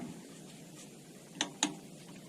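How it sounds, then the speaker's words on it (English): Torque wrench tightening caliper mounting bolts to 65 foot-pounds on a 2007-2013 Toyota Tundra rear brake, heard as faint ratcheting followed by two sharp close clicks near the end, with no talking. "Insert the caliper mounting bolts. Torque to 65 foot-pounds."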